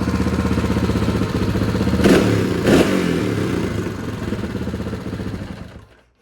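A Honda XR650R motorcycle fitted with a Hot Cam idles with a close, steady thumping beat and mechanical clatter, two quick throttle blips partway through, before the engine cuts off and falls silent.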